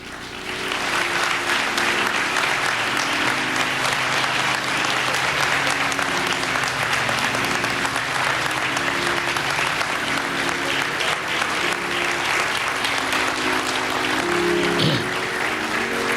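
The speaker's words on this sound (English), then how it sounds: "Please give a great round of applause for the Reverend Al Sharpton." A large audience at a George Floyd memorial service gives sustained applause for the Reverend Al Sharpton, a dense, loud wash of clapping that holds steady throughout.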